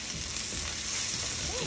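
Ginger, garlic and turmeric stirred into golden-brown onions in a hot pan make a brief, dense, even sizzle, loud and close, with no one speaking.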